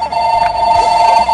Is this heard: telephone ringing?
yes